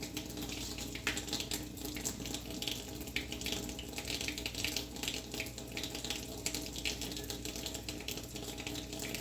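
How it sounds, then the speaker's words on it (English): A sponge's scrubby side scrubs at a soapy, slippery metallic paper label under running water, a steady wet rushing wash with faint scraping texture throughout, no voices. "then try the household scrubby and see if that gets the last bit of it"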